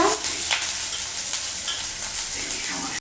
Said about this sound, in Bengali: দিয়ে দিলাম টমেটো দিয়ে ভাজবো ভালো করে